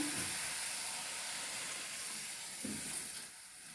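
Water poured into a hot pan of cabbage and egg sets off a soft, steady steam hiss and sizzle that fades slightly near the end, heard at a quiet level with no talk.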